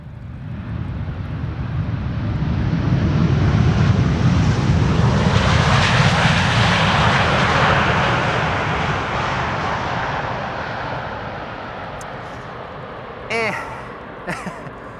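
An airliner lands on runway 18R at Amsterdam Schiphol, its engine roar swelling loudly as reverse thrust is expected, then easing off into a fading rumble with a couple of brief clicks.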